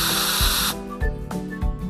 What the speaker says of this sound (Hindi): गंदगी हटाने के लिए ब्रश वॉशर को गाड़ी पर घुमाएं